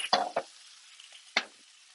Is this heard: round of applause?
no